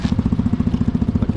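A three-wheeled motorcycle engine runs steadily nearby with a regular, lumpy idle pulse that keeps an even rhythm and has no talk over it.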